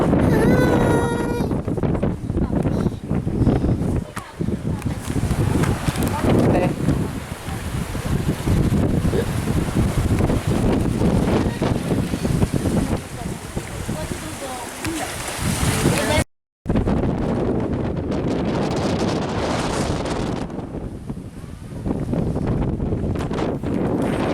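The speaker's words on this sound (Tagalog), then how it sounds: "sobrang lakas ng hangin" Strong wind on a rocky shore at Dingalan, Aurora buffets the microphone in a steady, loud roar, with surf-like rushing underneath and a brief dropout partway through.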